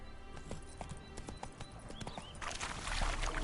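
Horse hooves clip-clop in a steady walking rhythm in the video game The Witcher 3: Wild Hunt, moderately close, with ambient background noise swelling toward the end.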